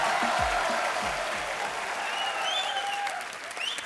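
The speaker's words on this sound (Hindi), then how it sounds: "जोरदार तालियां साथ साथ में" Studio audience applause welcoming actors Vivek Oberoi, Aftab Shivdasani and Riteish Deshmukh onto The Kapil Sharma Show, a steady dense wash of clapping throughout with some low thumps early and faint whistles or cheers near the end.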